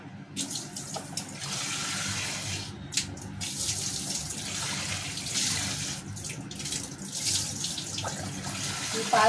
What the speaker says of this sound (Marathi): तर ही डाळ आपण धुवून घेऊया.